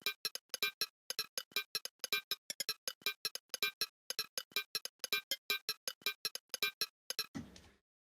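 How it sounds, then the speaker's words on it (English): Rapid metallic clicks and pings from flicking an old aluminium LaCroix sparkling water can, played in quick rhythmic bursts as a percussion sample, crisp and close, ending in a brief noisy swell. "some samples I made from like flicking and messing with an old soda can"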